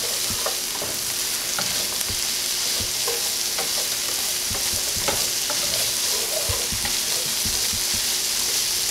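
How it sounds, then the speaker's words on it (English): Vegetables cook in a pan with flour as part of a keto turkey fricassee. Steady sizzling frying hiss plays throughout, broken by repeated scraping and tapping strokes of stirring, close up, with no talk. "I'm just going to stir that around and incorporate it into our vegetables and cook out the flour taste"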